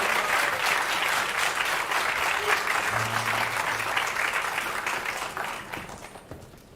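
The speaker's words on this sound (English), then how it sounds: "Let's give a final round of applause to the string quartet" A concert audience gives a string quartet a final round of dense, sustained applause at close range, which slowly thins and fades toward the end.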